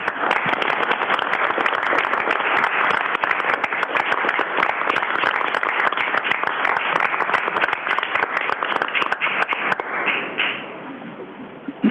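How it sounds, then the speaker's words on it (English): An audience at a city council meeting applauds the employees, dense sustained clapping from many hands filling the room and then tapering off near the end. "can we give our employees a round of applause, please?"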